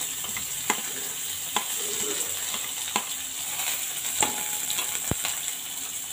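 Onion and garlic sizzle and fry steadily in hot oil, a continuous close crackle with occasional sharp pops and stirring clicks, while green chillies cook alongside them for a chutney.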